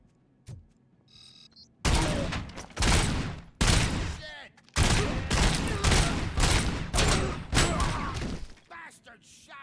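Bursts of video game gunfire crackle in rapid fusillades, separated by short pauses, loud and close with sharp impacts, after a quieter lead-in with a few faint sounds.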